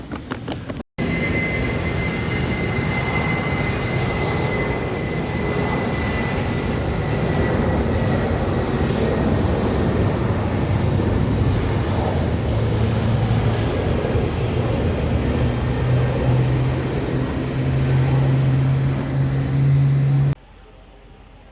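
Airport ambience at boarding gate B7 before a departure to Kuala Lumpur: a steady, fairly loud drone of ventilation and distant activity with faint sustained tones. It runs unbroken for about twenty seconds, with no clear speech.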